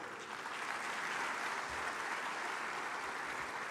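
Audience applause for the President of Ghana at the 30th Afreximbank Annual Meetings in 2023, a broad hall full of steady clapping heard from a distance, even and sustained.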